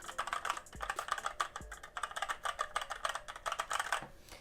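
Rapid, steady typing on a budget RGB gaming keyboard, with close, clacky keystrokes that carry a slightly metallic edge and a few heavier thuds from larger keys, continuing throughout with no talking.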